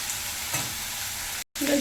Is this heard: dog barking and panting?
no